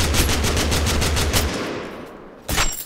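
Rapid automatic gunfire in the video game Totally Accurate Battlegrounds, a fast loud burst of shots for about a second and a half, a brief pause, then another short burst.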